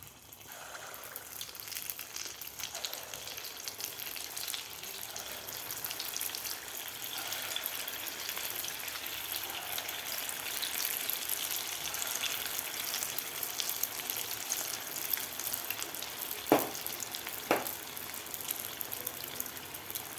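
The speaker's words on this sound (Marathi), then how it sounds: "आपण आता हे जे बॅटर बनवून घेतलं होतं त्याच्यात आपल्याला भजी सोडायची आहे" Rice flour pakoras (bhaji) frying in hot oil make a steady, even sizzle throughout, with a couple of brief louder pops near the end.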